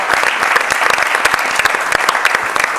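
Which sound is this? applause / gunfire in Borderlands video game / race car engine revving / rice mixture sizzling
applause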